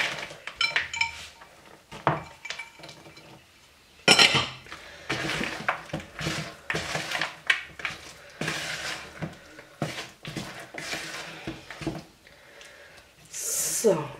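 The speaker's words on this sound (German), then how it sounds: "So, einfach nur ganz kurz unterrühren" Frozen blueberries are stirred into vegan muffin batter in a bowl, giving repeated clinks and scrapes of a spoon against the bowl in short uneven bursts, close and moderately loud, with a few sharper knocks.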